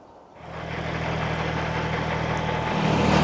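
A tractor engine runs steadily and close by, a low rumbling idle that starts up after a brief quiet moment and grows slightly louder toward the end, with no talking over it.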